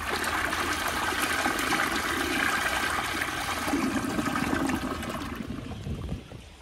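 A Project Source Pro toilet flushes with a loud, steady rush of water that holds for about five seconds, then fades as the bowl refills with a gentle trickle.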